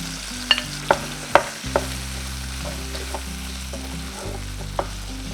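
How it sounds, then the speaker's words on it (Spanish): Browned chicken pieces with onion and half each of a red and a green pepper fry in a pan with a constant hiss, broken by a few sharp utensil knocks near the start and occasional lighter taps. "le vamos a agregar una cebolla, medio pimiento rojo y medio pimiento verde"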